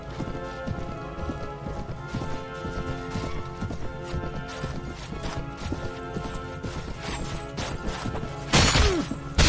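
Horse hooves clip-clop steadily through a loud Mount and Blade Viking Conquest battle, with a whinny and crashing impacts near the end.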